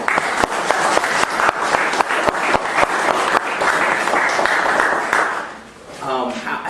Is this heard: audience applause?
yes